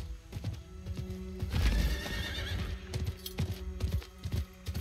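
A horse in the video game Diablo IV whinnies loudly mid-clip, with repeated clip-clop hoofbeats before and after, set against steady game background sound.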